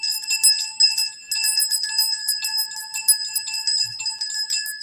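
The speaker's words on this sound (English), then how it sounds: "maybe let's just do the bells" Several bells ring together in a bright, shimmering cluster of clear tones, struck repeatedly in uneven bursts with brief pauses, close and loud with no talking.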